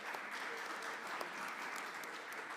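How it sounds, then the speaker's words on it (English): Faint, steady applause comes from a conference audience at a morning session on 5G and broadband, a soft continuous patter with no voices over it. "Thank you for the applause."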